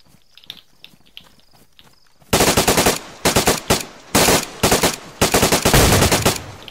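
Rifle fire in the video game DayZ starts after a quiet stretch, with loud bursts of rapid automatic shots repeating in close, sharp volleys.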